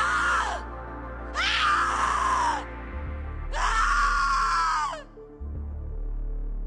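Screams from the suicidemouse.avi creepypasta, three distorted wailing cries that rise and then fall, each lasting about a second or more, separated by short gaps over a low rumbling drone.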